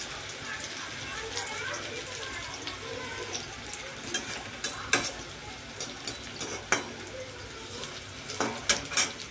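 Batter made of besan and rice flour frying in hot oil, a low continuous sizzle with scattered pops and crackles, fairly quiet and nearby.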